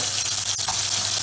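Onions sautéing in hot oil in a pan for a meatball hunter's kebab, giving a steady close sizzle with a faint stir or scrape in the middle and no talk.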